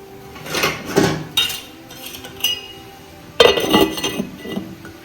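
A metal lid clatters onto a cooking pot of drumstick-stem soup with several sharp clinks and rattles, close and loud, in two bursts separated by a quieter pause.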